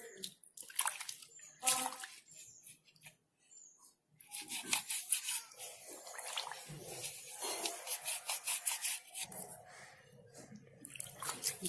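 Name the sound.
rinsing a mixer grinder with water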